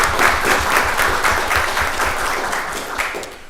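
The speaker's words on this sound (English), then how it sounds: "Let's give Chief Warrant Officer LeBlanc another round of applause." An audience at a county board of commissioners meeting applauds for a Chief Warrant Officer, with a continuous dense clapping that fades slightly toward the end.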